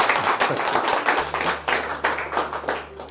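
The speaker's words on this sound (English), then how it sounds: "I think that deserves a round of applause at the National Trust" An audience applauds at a National Trust event, with steady dense clapping from a nearby crowd over a low steady hum, loud and continuous throughout.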